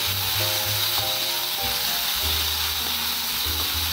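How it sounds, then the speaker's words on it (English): Onion sautéing in a pan with ginger, a steady close sizzle and hiss of frying throughout, with low background hum and no talking. "Put the onion and saute for few minutes"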